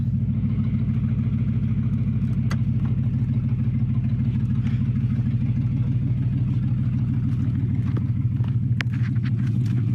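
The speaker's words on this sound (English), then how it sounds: "The whole muffler is gone, Jerry." Car engine with the whole muffler missing, a loud deep continuous rumble at steady idle with rapid throbbing pulses, heard alone and close.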